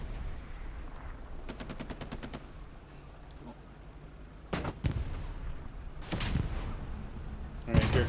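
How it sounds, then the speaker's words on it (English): Rockets and gunfire in a war video game: a rapid burst of automatic fire, then several sharp blasts and more shots over a low steady battlefield rumble, fairly faint overall. "here comes rockets from Untel"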